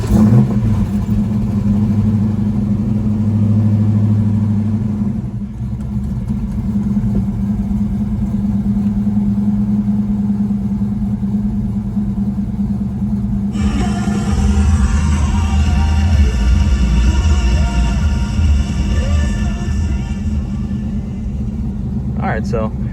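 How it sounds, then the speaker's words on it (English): A 1989 Ford Mustang GT V8 running after sitting for a week: a loud, steady low engine rumble that shifts to a rougher idle partway through, with talking over it. "first start up of the car in like about a week"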